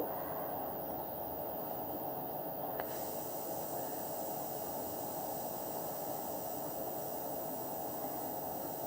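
Ridge gourd and poppy seed curry bubbles steadily in a pan, a continuous soft hiss and faint burble of simmering liquid throughout, with a small clink partway through.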